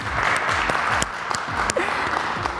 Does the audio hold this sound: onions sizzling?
no